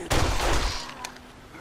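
A single loud, close gunshot bursts out in the console version of 7 Days to Die, then trails off into a fading echo and low rumble.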